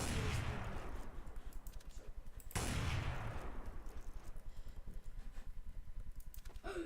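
Rapid bursts of automatic gunfire in Counter-Strike: Source rattle steadily, with a loud heavy shot partway through, followed by continued quick, evenly spaced shots.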